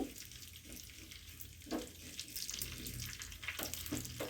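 Tempering for coriander pongal sizzles steadily in a hot pan, a continuous frying hiss with a few brief louder crackles, close and fairly quiet, with no talking.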